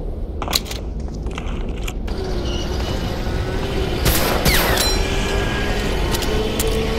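Tanks passing by in the World War II shooter Medal of Honor: Allied Assault, a heavy continuous rumble with metallic clanks and squeals of tracks, swelling louder toward the middle and staying close.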